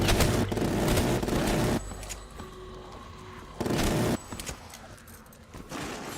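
Sustained bursts of rapid automatic fire from the Death Machine minigun in a Call of Duty zombies match, loud and close, with a couple of brief pauses between long strings of shots.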